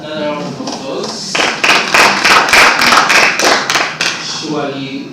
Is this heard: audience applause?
yes